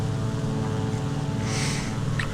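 Gladiator Mk II biplane engine in the combat flight game War Thunder, a steady, loud propeller drone that holds evenly throughout with no talk over it.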